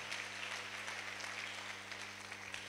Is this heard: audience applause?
yes